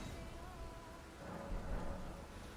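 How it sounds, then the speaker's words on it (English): Steady rain with a low rumble of thunder in Caelid, a rain-soaked region of the video game Elden Ring, soft and continuous with a faint swell of thunder in the second half. "I hate how it's constantly raining in this place"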